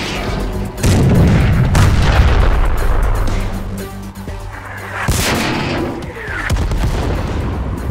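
Gunfire in an animated cartoon battle, aimed toward a factory during a snowstorm: loud booming shots and bursts alone, a heavy blast near the start and another sharp crack around the middle, with rumbling noise between.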